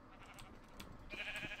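A Minecraft sheep bleats in short, fairly quiet calls with a higher-pitched cry toward the end, over a soft game background.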